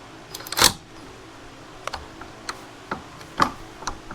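Small ratchet turning a bolt on a Polaris Sportsman 700 ATV gives sparse, sharp clicks at irregular intervals, one louder burst near the start, with no talking.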